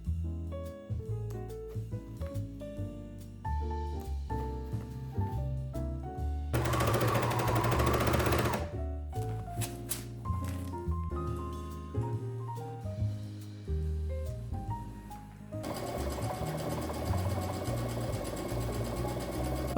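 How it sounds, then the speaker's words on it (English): A sewing machine stitching jeans, running in fast steady bursts that alternate with pauses, over tonal background music. "so that I can sew these together and do the top stitching on them"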